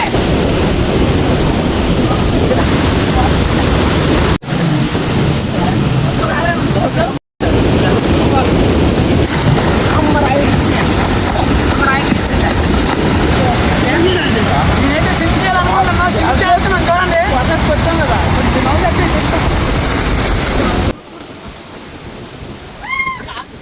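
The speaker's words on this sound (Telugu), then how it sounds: "వాటర్ ఫ్లో అయితే చాలా ఎక్కువగా ఉంది ఫ్రెండ్స్" Strong flow of a waterfall near Padmanabham, a steady loud broadband roar of rushing water with wind buffeting the microphone, briefly cut out twice and dropping away near the end.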